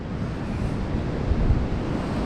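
Stormy sea surf pounding the Crimean shore at Bugaz, a steady loud roar of breaking waves with wind buffeting the microphone and a couple of heavier crashes near the middle.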